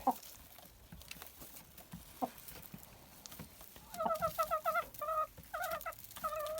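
White Leghorn laying hens clucking in a cage, starting faint and becoming a run of repeated, fairly close calls in the second half.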